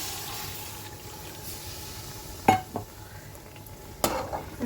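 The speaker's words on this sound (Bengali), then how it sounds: "সয়াবিনটা কষানো হয়ে গেছে এখন আমি জল দিয়ে দেবো গরম জল" Hot water poured into a pan of sautéed soybean chunks and stirred, giving a steady low sizzle with a few sharp scraping and splashing bursts near the end, close and moderately loud.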